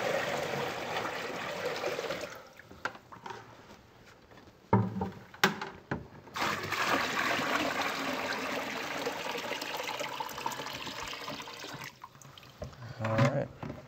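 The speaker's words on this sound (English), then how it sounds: "our first step right now is to fill the basin with some water" Running water pours steadily into a basin for a DIY hydroponic aeroponic cloner, a continuous rushing fill with a brief lull and a few knocks partway through.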